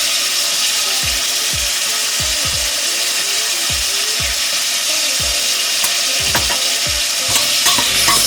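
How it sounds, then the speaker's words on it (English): Vegetables seasoned with salt, pepper and garlic powder sauté in a hot pan, a steady loud sizzle broken by repeated sharp scrapes and knocks of a utensil stirring them, with no talking. "Stir this around. You want to get a nice color on the veggies."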